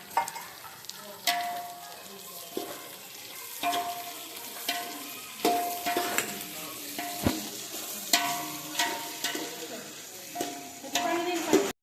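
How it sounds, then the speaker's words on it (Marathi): Vegetables and spices for a veg biryani being stir-fried in a pan, with a soft steady sizzle broken by repeated scrapes and knocks of a spatula against the metal, fairly quiet and close. "थोडंसं नॉर्मल भाजून घेणार आहोत"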